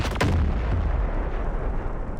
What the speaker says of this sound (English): That's a guided missile